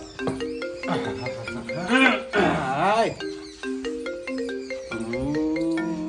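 A mobile phone rings with an incoming call, a looping melodic ringtone running under loud overlapping talk from several people.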